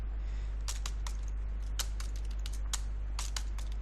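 Keys clatter on a computer keyboard in short irregular bursts, close and fairly quiet over a steady low electrical hum, with no talking.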